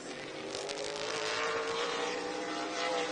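A number 23 Chevrolet race car on a qualifying lap at Madison International Speedway in Oregon, Wisconsin, its engine a steady, loud roar throughout with no voices.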